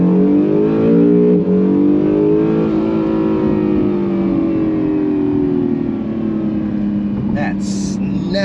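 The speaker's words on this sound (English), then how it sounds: "I'm expecting this thing to just rocket off the line because you got that torque of the hybrid" A 2018 Acura NSX hybrid launches from a standstill in track mode. The loud engine revs and rises in pitch as the car pulls away hard, with a brief voice near the end.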